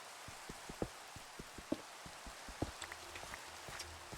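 Rain falls in the Minecraft video game, a steady soft hiss with irregular distinct drop taps scattered throughout, low and even in level, with no talk over it.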